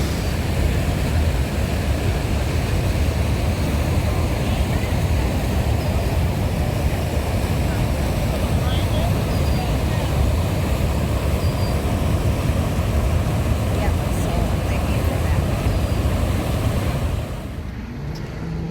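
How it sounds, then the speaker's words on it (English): Bridal Veil Falls at Niagara Falls roars up close as a loud, unbroken wash of falling water and spray. It holds steady for about seventeen seconds before easing slightly at the very end. "Right down there is where we are getting soaked by this waterfall right here. This is Bridal Veil Falls"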